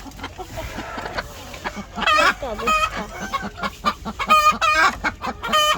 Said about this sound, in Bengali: মুরগি ঢুকেছে, এই যে দেখেন ডিম খাচ্ছে